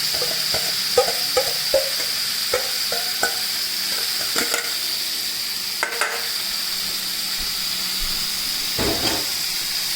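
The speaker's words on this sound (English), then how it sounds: "Just let that pan fry a little bit." Food frying in a hot pan while lamb shoulder is cooked for dinner, a constant close sizzle and hiss with intermittent stirring scrapes and clicks throughout.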